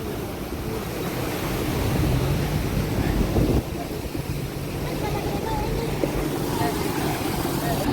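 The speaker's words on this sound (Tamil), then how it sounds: "தண்ணியெல்லாம் இப்படி ஓடுதுன்னு பாருங்க." Floodwater rushing across ground in Mullaitivu, a steady broad roar of flowing water heard close and loud throughout, with a surge near the middle.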